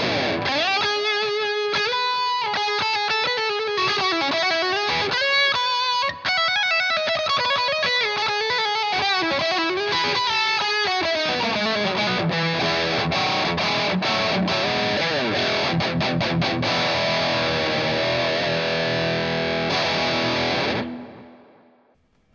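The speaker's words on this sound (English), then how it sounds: "if I kick the boost on the guitar, I can take that into a lead tone" Electric guitar lead tone, pushed by a guitar boost into a Bad Cat pedal: a loud, distorted solo of fast runs and bends that settles into long sustained notes before cutting off near the end.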